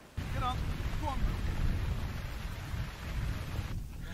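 Steady rain and wind hiss over an open grouse moor in Farndale, a constant wash of noise with brief calls or voices near the start.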